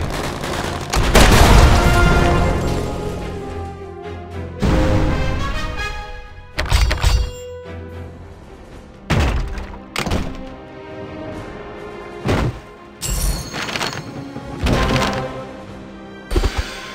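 Explosions from hand grenades in the World War 2 mobile game Road to Valor: a string of heavy booming blasts with sharp thuds, loud and close, several bursts spaced a second or two apart, with no talk.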